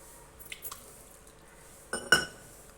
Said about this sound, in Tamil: இப்போ நம்ம தண்ணி தெளிச்சுக்கலாம்.